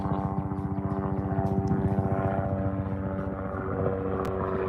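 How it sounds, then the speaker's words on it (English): A helicopter passes overhead near a lake during kayak fishing, its rotor a steady rapid thumping drone that holds loud and continuous throughout, with wind in the background. "There's a helicopter."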